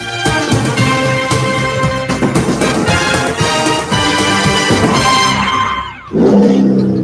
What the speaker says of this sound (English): That's the sound of the 2023 Chevy Silverado's turbo high-output engine